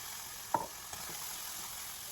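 Spam frying in a pan with garlic salt, pepper, onion powder, sriracha and soy sauce, a faint steady sizzle broken by a brief clack and a softer knock.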